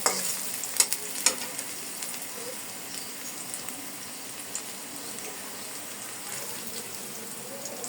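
Red amaranth leaves with green chili stir-fry in a pan, a steady soft sizzle with a few sharp utensil clicks early on, close and continuous with no talking.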